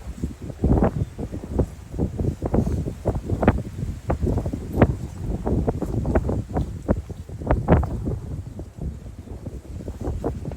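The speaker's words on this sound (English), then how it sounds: "Oh, this wind all day as well. It's not easing off." Strong, steady wind blows outdoors at a lake during a carp fishing session, buffeting the microphone in loud, dense, irregular gusts throughout with no talk.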